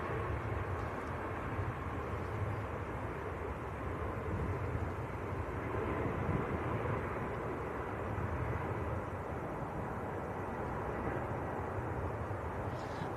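A Ryanair airliner on its takeoff roll at Manchester Airport, a steady broad jet roar heard from a distance that holds level throughout, with no talk over it.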